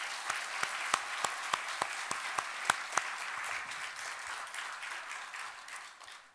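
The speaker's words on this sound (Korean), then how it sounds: "우리 하나님께 영광의 박수를 올려드리겠습니다." A Korean church congregation claps together, dense applause with a few sharp, louder individual claps in a rhythmic run near the start, then fading gradually to quiet.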